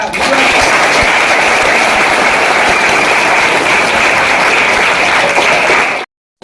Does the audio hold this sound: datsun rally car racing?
no